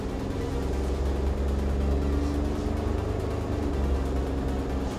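A Suzuki Jimny kei car's three-cylinder engine idles, heard from inside the cabin as a steady, muted low hum with faint vibration and no voices.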